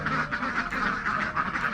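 Mojosari ducks quack in a close, lively chorus, several overlapping nasal calls in quick succession, with no talking.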